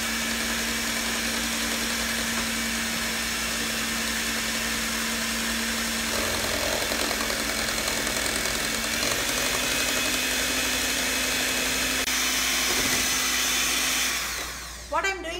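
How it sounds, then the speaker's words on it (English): A blender runs steadily, mixing gluten-free, casein-free, nut-free pound cake batter with honey, a continuous loud motor whir holding for most of the stretch before cutting out near the end. "once that is done, guys, we're just going to blend it really nice"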